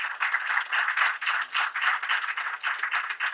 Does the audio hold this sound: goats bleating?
no